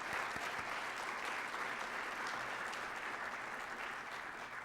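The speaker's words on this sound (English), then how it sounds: "They deserve a round of applause" Audience applause at a city's State of the Address event fills the room, a steady dense wash of clapping that holds evenly throughout, fairly distant and uninterrupted by talk.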